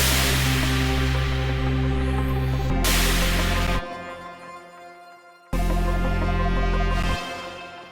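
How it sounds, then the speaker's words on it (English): Loud broadband white noise effect in Ableton, a hiss with a tonal hum underneath, cutting off abruptly midway, leaving a quieter tone before the harsh noise bursts back in. "we just want the white noise that comes after it"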